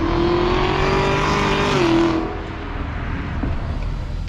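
Chevrolet Camaro accelerating in traffic, a loud, close, droning engine note that holds steady, dips briefly as it shifts, then fades to a lower rumble as the car pulls away.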